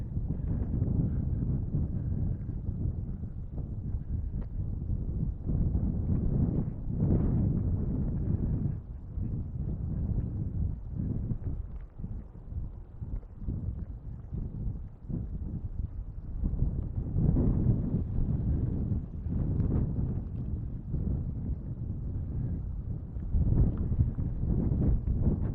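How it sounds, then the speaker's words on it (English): Strong gusting wind buffets the microphone throughout a city street walk under a dark, stormy sky, a continuous low roar rising and falling in waves with no talk. "Pretty windy."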